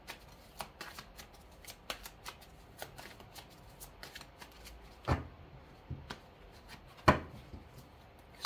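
Tarot cards are handled close up, with a run of soft flicks and slides as they are laid over a spread, then two louder slaps as cards land on the table. A voice speaks quietly over the handling.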